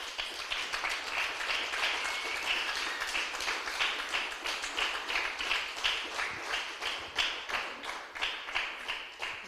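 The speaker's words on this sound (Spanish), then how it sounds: "Dale un aplauso fuerte al Señor" A church congregation applauds loudly for the Lord, a dense wash of clapping that settles into steady rhythmic beats, close and sustained throughout.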